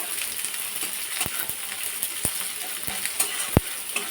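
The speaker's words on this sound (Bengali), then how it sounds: "কেটে রাখা ঢ্যাঁড়স এটা এর মধ্যে দিয়ে দিলাম" Cut okra goes into a hot pan and sizzles in a steady bright hiss, close and fairly loud, with a few sharp clicks of utensil on pan scattered through and no voice.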